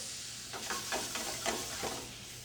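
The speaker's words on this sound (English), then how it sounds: "So I have my spätzle right here, and they go right into the hot brown butter." Spätzle hitting a pan of hot brown butter sizzle with a steady close hiss, swelling in several quick bursts as they are stirred and tossed; no voices.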